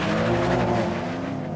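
Several performance cars, an Audi RS3, Mercedes-AMG A45S, BMW M2 and VW Golf R, roar together in a drag race, a loud steady engine drone with climbing tones, close by.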